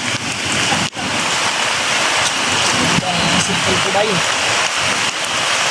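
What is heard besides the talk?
heavy rain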